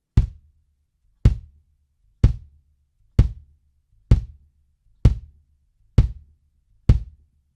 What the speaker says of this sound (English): here's the sound of it with digging the beater into the head